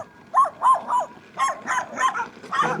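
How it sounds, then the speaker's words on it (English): A dog barks in a quick series of sharp, fairly loud yips and barks, outdoors beside a road near a summer cabin, with no talk over it. "Oh, this dog is gonna run down."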